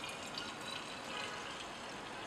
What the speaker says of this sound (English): The top benzene layer contains our product, so pour the mixture into a separating funnel.